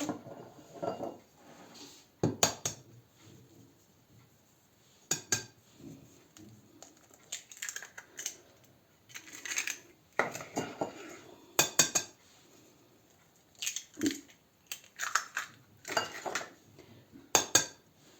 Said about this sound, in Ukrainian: Убиваю сюди три яйця.